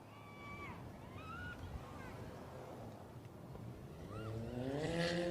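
Race cars roar around the oval at Mansfield Speedway, a steady engine drone echoing off the walls with rising and falling pitch as cars pass, moderately distant and continuous under wind.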